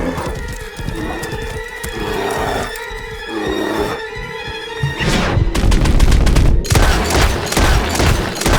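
Rapid gunfire in Red Dead Redemption 2, repeated sharp shots that grow denser and louder midway, mixed with horse neighing and hoofbeats amid a chaotic fight.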